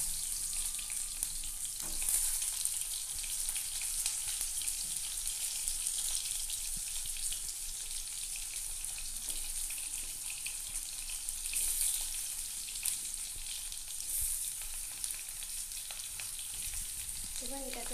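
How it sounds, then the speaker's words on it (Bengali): Unpeeled potatoes frying in oil with panch phoron in a kadai for aloo dum, a soft, continuous hiss of oil heard from a distance with a few faint clinks, no voices. "তো আলুগুলো আমার ভাজা হচ্ছে"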